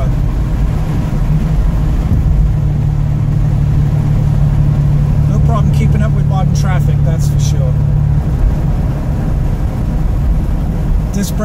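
A one-owner 1972 Ford Capri V6 with a four-speed manual gearbox driving along, its steady engine drone and road rumble running continuously under a voice talking, fairly loud and close from inside the cabin.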